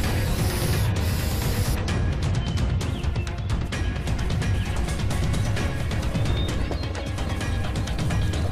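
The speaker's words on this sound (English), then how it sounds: "Spray those tags." Spray painting tags in Call of Juarez: The Cartel: a hissing spray at the start, then a busy, loud mix of rapid clicks and clatter that continues for several seconds.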